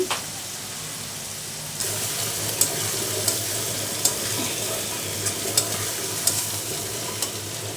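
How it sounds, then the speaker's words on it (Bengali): Onions are stirred and fried in a pan for a Bengali taro and rui fish curry, a steady close sizzle marked by periodic light clicks of a spoon against the pan and no speech. "এই যে দেখো পেঁয়াজগুলো দিয়ে নেড়ে চেড়ে ভেজে নিচ্ছি"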